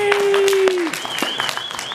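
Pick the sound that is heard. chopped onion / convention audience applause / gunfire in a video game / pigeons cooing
convention audience applause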